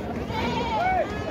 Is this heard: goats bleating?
yes